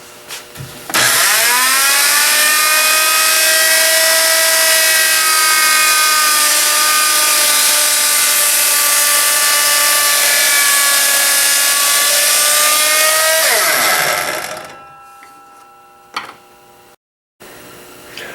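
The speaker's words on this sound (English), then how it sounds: "What I'm going to do in this first cutting step is start mitering the outer corners of our medallion." A power miter saw cuts the outer corners of a walnut board: a loud, sustained whining saw tone runs for about thirteen seconds, then winds down as the blade spins to a stop, with a few quieter knocks after.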